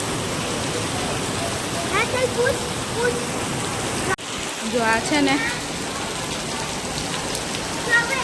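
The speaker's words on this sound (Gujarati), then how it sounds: "હવે વરસાદ ફૂલ ચાલુ છે" Heavy rain pours down in a steady, loud hiss that fills the whole stretch, with a brief dropout midway and a person speaking over the downpour.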